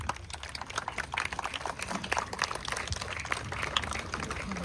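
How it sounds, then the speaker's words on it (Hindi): A standing audience at a live concert applauds to welcome guests, a steady, fairly faint wash of many hands clapping at a distance with no speech over it. "कृपया खड़े होकर जोरदार तालियों के साथ उनका हार्दिक स्वागत करें।"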